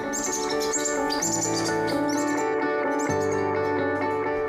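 Baby parakeet chicks in a plastic box chirp for attention: repeated high, thin, rising calls overlap in a continuous busy chorus, close and fairly loud, with no voices.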